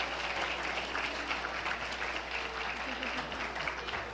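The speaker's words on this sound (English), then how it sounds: "Let's share a warm round of applause for all of our woodland animals" Steady audience applause at the Snow Tree Pageant for the performers playing woodland animals: dense, even clapping from a sizable crowd that holds without a break for several seconds.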